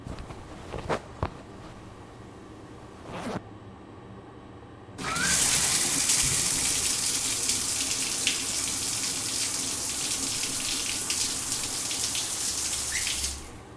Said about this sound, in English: please take a shower.